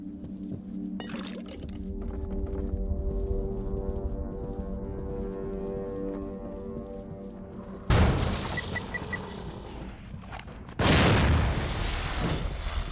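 Explosions in The Evil Within: a loud, broad burst abruptly breaks over a low droning game soundscape, followed by a second heavy blast a few seconds later, both booming and close.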